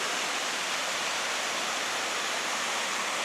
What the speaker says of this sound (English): Just a nice view of the creek.